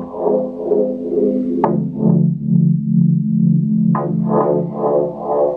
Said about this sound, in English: So I got this little synth thing that I like.